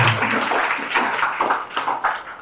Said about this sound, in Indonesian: Boleh mau tepuk tangan boleh.